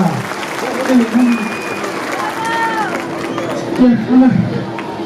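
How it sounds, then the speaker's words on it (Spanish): Audience applause at a national fair expo comedy show, a broad steady wash of clapping with crowd chatter and voices mixed in, fairly loud throughout. "¿Y dónde está el aplauso, señoras y señores?"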